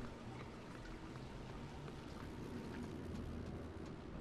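A shower running in the video game Prey, a steady, dense hiss of falling water that continues evenly throughout with no talking.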